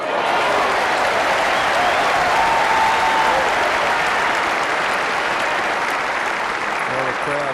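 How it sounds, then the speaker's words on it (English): A tennis crowd at the 1993 Indian Wells final applauds steadily to encourage Wayne Ferreira against Courier, a dense, loud and sustained clapping that fills the whole stretch. "the crowd trying to give Wayne Ferreira some encouragement"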